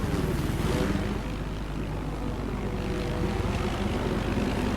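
A helicopter in a Noxia versus Lacross video game match drones steadily with a low, continuous engine and rotor hum, running evenly throughout without pauses.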